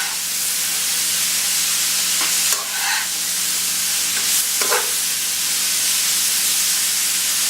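Mushrooms, peppers and bean sprouts stir-fry in a hot pan for a Chinese stir fry, giving a steady loud sizzle and hiss with a couple of brief scraping stirs, no voices.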